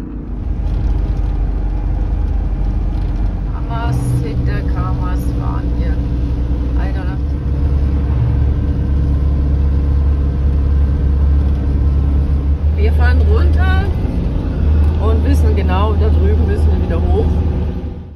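A camper van rumbles along a rough, uneven side road in Armenia, a heavy low cabin drone with occasional bumps and rattles, while people talk inside over the steady engine noise.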